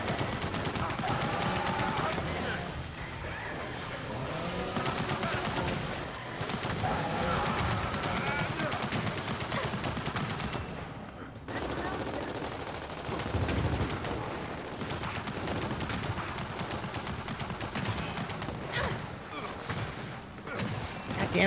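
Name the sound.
gunfire from a turret in a video game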